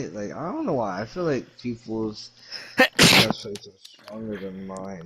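A single sharp sneeze bursts out in the middle of casual conversation during a Minecraft game session, with people talking before and after it.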